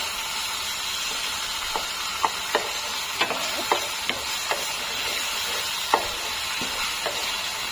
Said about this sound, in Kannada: ಇದನ್ನು ಫ್ರೈ ಮಾಡ್ಕೊತಾ ಇದ್ದೀನಿ